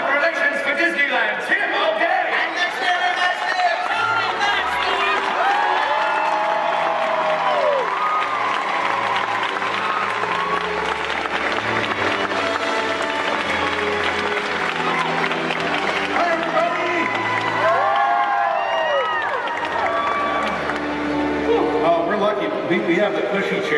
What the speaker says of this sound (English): please give a robust royal round of applause for the Prince of Public Relations for Disneyland